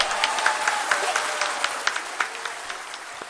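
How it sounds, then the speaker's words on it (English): Scientists and engineers crowd the ISRO control room after India's Chandrayaan-3 lander touches down near the moon's south pole, breaking into a steady patter of applause with sharp individual claps, loud and close. "That's the cheering from the scientists and engineers crowding the control room"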